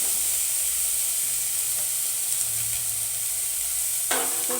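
Country chicken sizzles in a pan with onion and tomato while it is stirred. A steady frying hiss runs throughout, and a sharper scrape of the spoon comes near the end.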